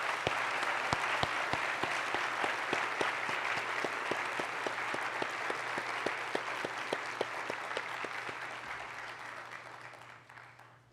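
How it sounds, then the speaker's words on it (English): Audience at a school board meeting applauds steadily for about eleven seconds, a dense even wash of clapping with a few louder individual claps standing out, tapering off gently toward the end. "So if you can please join me in giving him a big round of applause."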